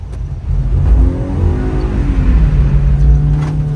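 A drift car slides through a run with its engine revving hard, a loud, continuous close roar rising and falling in pitch with no speech over it.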